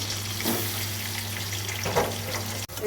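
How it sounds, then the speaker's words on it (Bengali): Fish fries in hot oil in a pan, a continuous close crackling sizzle with no voices, ending in a brief clatter. "এই যে মাছগুলো আমার দু পিঠই হালকা হালকা করে ভাজা হয়ে গেছে"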